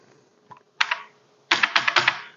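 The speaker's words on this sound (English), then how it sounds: "the more I use this keyboard, the easier it's getting" Keys clatter on a Commodore SX-64 computer keyboard: a short burst of clicks, a pause, then a longer run of rapid, fairly loud keystrokes close up, with no talking.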